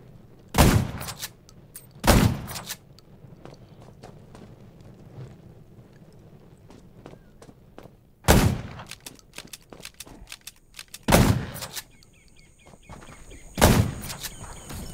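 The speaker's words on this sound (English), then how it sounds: "Gunshots will attract more zombies" Five sharp, loud gunshot blasts ring out at uneven intervals in a zombie survival video game, with quieter scattered pops and a low rumbling background between them.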